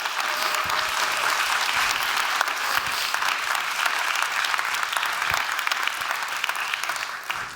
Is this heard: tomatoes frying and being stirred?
no